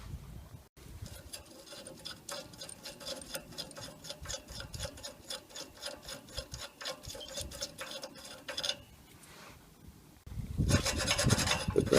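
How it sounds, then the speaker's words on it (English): A spanner or socket loosens the exhaust clamp nut on a Toyota Aygo exhaust box, a steady run of rapid rasping ratchet clicks close up, then a pause and a louder scraping rub at the end. "So you just need a spanner or a socket to loosen it."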